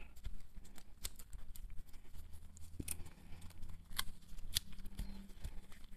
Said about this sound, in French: Hop, et remettre du scotch